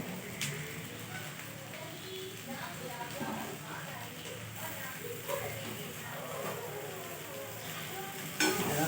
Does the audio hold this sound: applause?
no